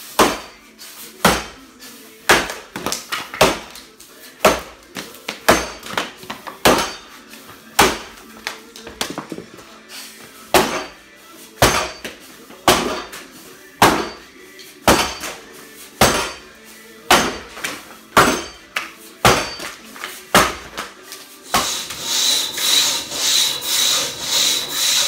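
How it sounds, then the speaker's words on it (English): An axe chopping a dry log at a timbersports training session: sharp, loud, close woody thunks at an irregular pace of one to two per second, twenty-odd strikes with no talking. "And I'm using an axe I want to try."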